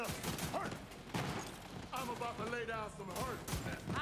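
Rapid gunfire from Borderlands 3 play, dense bursts of shots running through most of the stretch, loud and close, with a player talking over the shooting.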